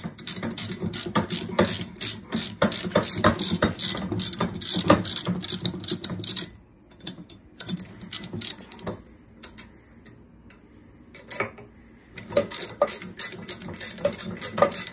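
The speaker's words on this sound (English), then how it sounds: "Some of the gun stock screw holes were screwed up, they're cross-threaded, so we're just retapping them." A tap is worked through cross-threaded screw holes in a gun stock, giving a dense run of rapid ratcheting clicks, a quieter pause, then more clicking, close and without speech.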